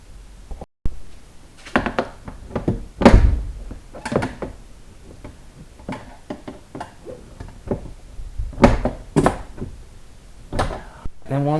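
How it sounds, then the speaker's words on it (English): A screwdriver pries plastic clips loose from a Kia Soul door panel, giving a series of sharp irregular snaps and plastic knocks spread across the stretch, close and fairly loud. "going to use a screwdriver and then just carefully pry this door panel away from the door"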